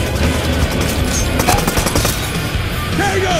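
Machine gun fire in a firefight: dense, continuous rattling bursts and overlapping shots fill the whole stretch, loud and close, with no speech over the gunfire.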